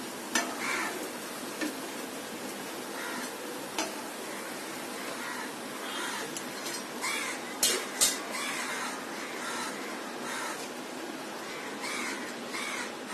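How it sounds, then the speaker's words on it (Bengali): Potato tikki frying in hot oil, with a steady, even sizzle running throughout, occasional light clinks from the pan, and crows cawing now and then in the background. "এরকম লাল করে সবগুলি আমি ভেজে নেব"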